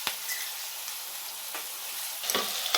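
Onions sizzling with salt in a pan, a quiet steady fry broken by a few sharp scraping stirs near the end.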